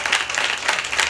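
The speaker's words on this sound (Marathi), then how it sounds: "एकदा वाजवा जोरदार टाळी" Audience applause at a kirtan: a dense, steady wash of many hands clapping together, loud and close, with no talk over it.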